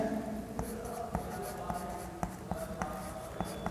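A pen scratches and taps across paper or a board while a label is written onto a diagram of the digestive system in a biology lesson, with soft strokes and periodic sharp ticks, fairly close.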